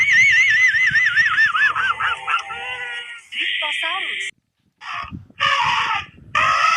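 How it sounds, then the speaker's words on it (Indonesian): A cartoonish dinosaur sound effect: warbling honking calls like a goose, loud and close, followed by a few short bursts separated by brief silences. "Dinosaurus, bunyi dinosaurus."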